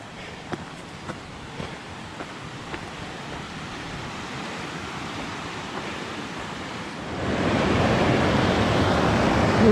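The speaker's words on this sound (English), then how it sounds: "the stream goes right by" A mountain stream rushes by nearby as a steady, hissing wash of flowing water, fairly soft at first and then swelling noticeably louder toward the end, with no voices.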